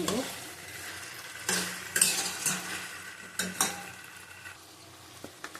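Chicken pieces stir-fried in a pan sizzle softly while a utensil scrapes and clinks against the metal in irregular strokes, close and moderately quiet, with no talk.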